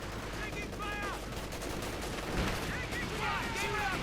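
Dense gunfire and explosions from a Company of Heroes 2 battle, with anti-tank shots striking a Panther tank amid a continuous loud wash of game combat noise and voice chatter.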